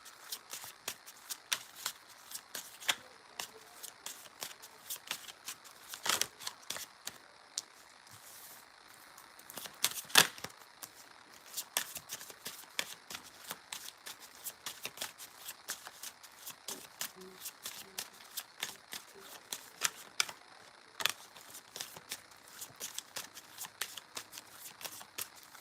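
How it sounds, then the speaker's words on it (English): Tarot cards shuffled again and again at close range, a steady run of soft, crisp riffling bursts and flutters over quiet room tone during a live reading. "A few more shuffles."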